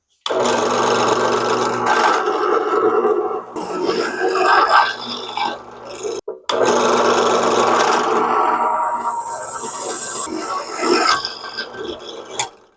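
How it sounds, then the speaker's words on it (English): Power drill boring M8 holes into a steel caliper bracket for a lifted Coleman B200RSV, two long loud grinding, whining runs separated by a brief stop, the motor pitch wavering under load. "Got my drill in there to drill out an M8 125"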